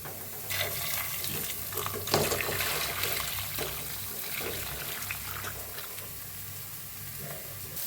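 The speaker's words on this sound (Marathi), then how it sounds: "गरम पाणी आपण मध्ये वतून घेऊया" Hot water is poured into spice masala roasting in a pan for village-style chicken, giving a splashy, hissing pour over a faint sizzle, close by.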